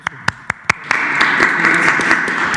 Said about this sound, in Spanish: Gracias, les pido un aplauso.